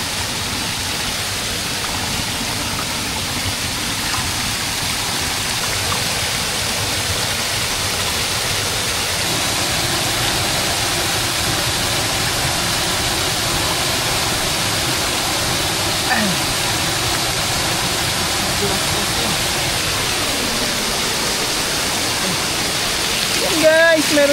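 Strong water flow from a mountain water source, a steady broadband rush like a stream or small waterfall running loud and continuous throughout, with faint voices here and there.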